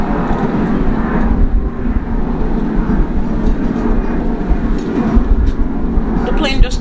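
A plane passes overhead with a broad, steady roar that fills the whole stretch, loud and continuous, while people talk nearby underneath it.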